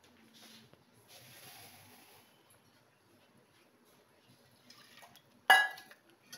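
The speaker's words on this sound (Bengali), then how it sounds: "আমি এর মধ্যে কুকারটা ধুয়ে একটু জল দেবো।" Pressure cooker being rinsed and filled with water while dal shukto cooks, quiet running and splashing water with faint clinks of the pot, followed by a brief louder splash near the end.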